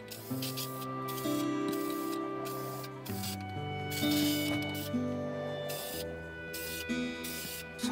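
Continuous aerosol spray hisses in bursts with short gaps while painting restored old hand planes, close and moderately quiet, with faint tonal hum underneath.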